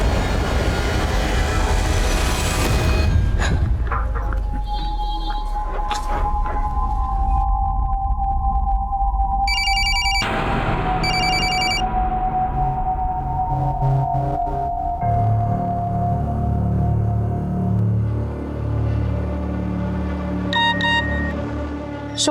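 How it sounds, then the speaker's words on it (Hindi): A telephone ring tone sounds in short repeated bursts over a low, steady rumble of background noise, fairly close and clear. "शोएब, प्लीज मेरा फोन पिकअप करो, अर्जेंट है।"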